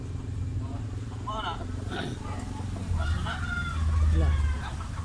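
Hatch bloodline fighting cocks, medium size with black legs, crowing and clucking at a poultry market, several calls overlapping under steady background chatter and crowd noise.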